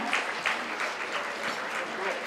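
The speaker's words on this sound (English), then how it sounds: "I want the table 30 to clap there, to applaud, please, your friend." Guests at one table clap at a Greek culinary gala, a brief burst of steady, fairly close applause with a voice speaking over it.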